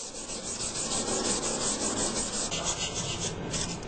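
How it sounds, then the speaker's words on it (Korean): Inkstone being ground with wet sandpaper while dipped in water, a steady close rhythmic rasping and rubbing with repeated strokes, heard alone. "벼루를 물에 담궈가면서 물사포로 갈아낸다"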